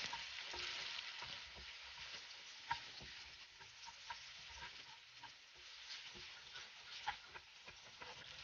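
Already-cooked beef franks heating in a pan, giving a steady, quiet sizzle and frying crackle with scattered small pops and ticks throughout, with no voices.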